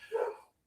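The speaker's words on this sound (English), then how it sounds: "If you guys hear the barking, that's my beloved dog Calvin in the background, who is very upset" A dog barks once in the background, a single short, muffled bark followed by a faint trailing yip, heard indoors at moderate distance with no one talking.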